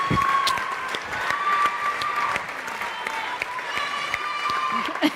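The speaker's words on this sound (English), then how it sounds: "Love the cheer from down here." An arena audience at a live sports game reveal event applauds and cheers steadily, a dense wash of clapping with whoops rising and falling throughout, loud and continuous.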